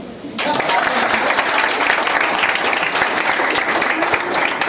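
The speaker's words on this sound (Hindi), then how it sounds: "इसके लिए ताली बनती है।" Audience applause fills a crowded celebration gathering, starting abruptly after a brief pause and then holding as dense, steady, loud clapping for several seconds.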